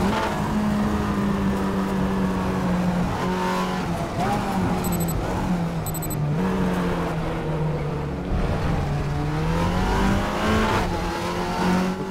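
An Audi TT race car in the RaceRoom racing game drones steadily under load, its engine pitch rising and dipping through gear changes and corners, loud and continuous for the whole stretch.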